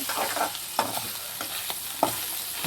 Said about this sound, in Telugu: చిక్కుడుకాయలు చూడండి ఫ్రెండ్స్, బాగా ఫ్రై అవుతున్నాయి